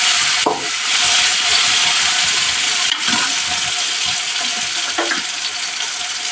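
Chicken liver with ginger-garlic paste and coriander is stirred in a sizzling pan, a steady loud frying hiss broken by a few distinct scraping strokes, with no voices.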